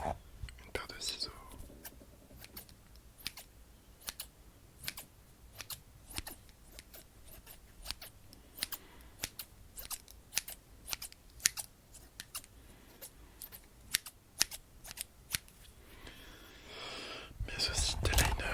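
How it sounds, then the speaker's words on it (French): A pair of scissors is taken from a pencil case belonging to a fashion student and handled close to the microphone in sharp, repeated clicks and snips. Soft whispering runs underneath, and louder rustling comes near the end. "une paire de ciseaux"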